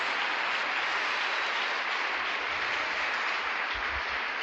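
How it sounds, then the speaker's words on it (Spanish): Applause from a church congregation for the Lord during a sermon, a steady dense wash of many hands clapping held at an even level the whole time, with no voices over it. "Démosle un aplauso grande al Señor."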